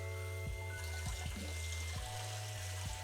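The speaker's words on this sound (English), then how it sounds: "Just gonna give it a couple passes under the cold water until the water runs clear" Cold tap water runs steadily over small potatoes being rinsed for homemade fries, a continuous close splashing trickle with soft thumps as the potatoes are moved under the stream.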